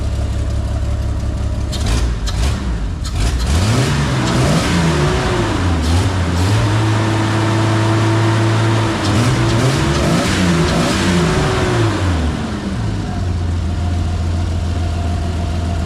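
A nearby car engine, recently troubled by bad gas, idles loudly, then revs up and down in a couple of rising and falling surges before settling back to idle.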